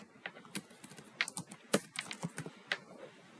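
Someone types a description on a computer keyboard, a fairly quiet run of irregular, crisp keystrokes with short pauses between bursts and no talking.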